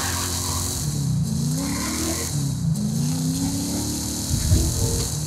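A car engine in the video game Forza Horizon 5 revs and drones steadily, the pitch rising and falling as it accelerates, loud and continuous with no talking.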